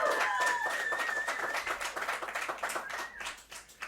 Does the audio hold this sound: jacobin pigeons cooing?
no